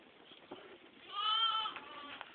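Katahdin sheep and lambs bleating inside a farm barn, several overlapping calls rising to a loud, drawn-out bleat in the middle, with softer bleats around it.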